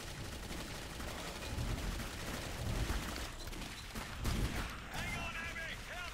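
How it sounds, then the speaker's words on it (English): Gunfire in the horror shooter game Clive Barker's Jericho, bursts of shots and rattling fire mixed with game effects, steady and moderately loud, with character voices talking over it. "What are they shooting at?"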